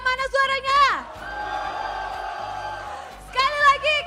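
A crowd cheering and whooping at an esports match, a sustained roar of voices between bursts of a host's loud speech.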